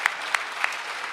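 Audience applause at an economic development opening ceremony in Mexico, honoring a state government official from Tamaulipas; a steady wash of clapping from a crowd with a few sharper, louder claps standing out.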